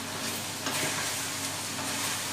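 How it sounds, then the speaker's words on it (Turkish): Sliced peppers and shallots sizzle steadily in a hot pan while being stirred, giving a continuous close frying hiss with faint scraping and no talk. "Evet, biber ve arpacık soğanlarımızı da ilave ediyorum. Biberlerimiz de birazcık sotelensin içinde."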